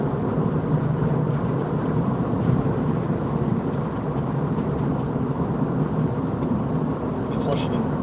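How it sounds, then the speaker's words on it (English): A lorry overtakes on a road toward Lancaster and Morecambe, heard from inside a moving car as a steady, loud broadband road and engine roar lasting throughout, with no distinct pass-by peak. "This lorry's overtaking."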